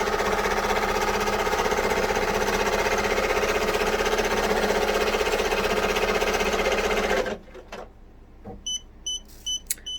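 An embroidery machine stitching a pig-shaped trivet runs with a steady fast mechanical chatter for about seven seconds, then stops, followed by a few clicks and short electronic beeps.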